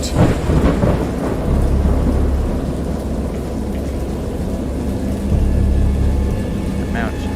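A violent thunderstorm with steady heavy rain and repeated deep rolling thunder, one long rumble early and another swelling near the end, loud and close throughout.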